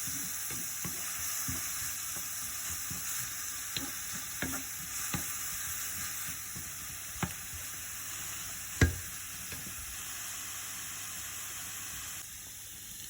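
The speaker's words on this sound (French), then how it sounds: "J'ai mis un oignon râpé ici. Donc, je mets un filet d'huile, enfin un peu d'huile, on va dire. Vous allez rissoler." Grated onion fries in a little oil in a pan, a steady close sizzle with scattered stirring scrapes and one sharper clack near the end, no voices.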